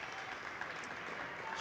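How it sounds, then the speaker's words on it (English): Faint applause ripples through a high school gym during a girls' basketball game as an injured player limps off, a quiet, distant patter of clapping heard steadily throughout. "certainly a nice round of applause as Bailey limps to the bench"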